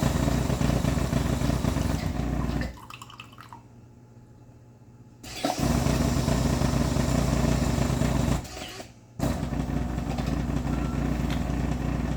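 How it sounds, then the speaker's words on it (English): The pump of a Jura Impressa J9 coffee machine runs with a loud, steady, buzzing drone that stops twice, first for a few seconds and then briefly, before starting again. "So I'm just holding the pump so it's not shaking."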